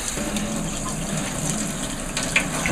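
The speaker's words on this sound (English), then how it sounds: "you'll see that the water will come straight out" Water gushes steadily out of a hookah base held up against running water during cleaning, a continuous close, splashing rush at moderate level.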